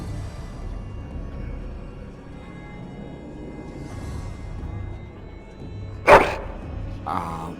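A dog in Dragon Age: Origins gives a sharp, loud single bark followed by a shorter second yelp, heard over a low ambient hum of a crowded hall.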